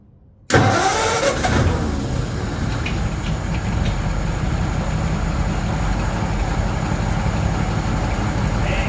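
A 1936 Ford 8BA Flathead engine that sat in a barn for years cranks and catches after a brief silence, then settles into a loud, steady, rough running rumble close by.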